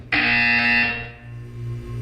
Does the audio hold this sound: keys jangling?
no